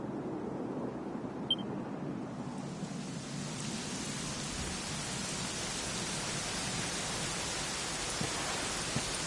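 Steady rain in the video game Dragon Quest XI, a continuous hissing downpour that swells in after a quieter start and holds evenly throughout, with no voices.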